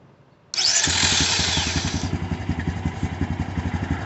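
A Honda Recon 250 ES ATV engine, after carburetor repair, cranks and catches with a loud whir, then settles into a rapid, chugging idle close by.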